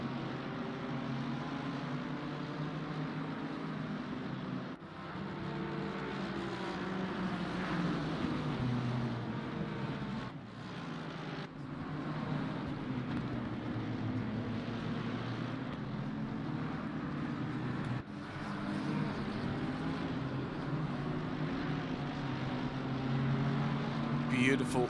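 Several GT3 race car engines in Assetto Corsa Competizione sim racing at Paul Ricard, droning together as a dense field heads into turn 1, steady and loud with brief dips, under continuous commentary.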